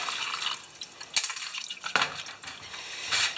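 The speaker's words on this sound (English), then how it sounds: "Let's just pour the gas out of here." Gasoline splashes and trickles as it is poured out of the fuel tank of a Murray lawn mower with a Briggs engine, in uneven liquid sounds with a few sharp clinks of metal, close by.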